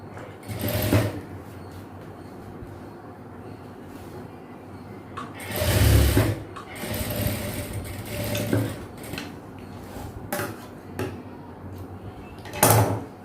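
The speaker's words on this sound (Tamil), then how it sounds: "இப்போ வந்து நம்ம இதை ஓப்பன் பண்ணியிருக்கோம்ல, அதையும் நம்ம ஸ்டிச் பண்ணிடலாம்." A sewing machine stitches elastic on girls' shorts in short bursts of whirring separated by pauses, with occasional louder thumps and rustles of fabric being handled close by.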